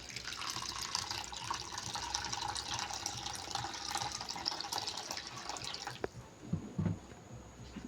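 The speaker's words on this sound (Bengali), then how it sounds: "এবার আমি জল দিয়ে দেবো।" Water pouring onto freshly grated coconut held in a cloth, a steady running splash for about six seconds that stops abruptly, followed by a few soft handling sounds.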